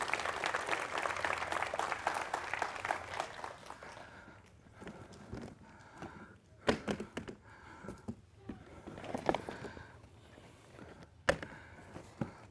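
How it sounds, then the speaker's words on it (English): Audience applause at an outdoor raptor presentation in a park, a loud round of clapping that fades after a few seconds into scattered, quieter taps and shuffling. "let's give him another big round of applause"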